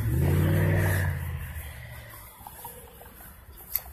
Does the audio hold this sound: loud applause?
no